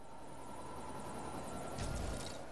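A helicopter taking off in the Lego City Undercover video game, heard as a steady engine hum with rotor chop that swells and grows louder near the end, with no voices present.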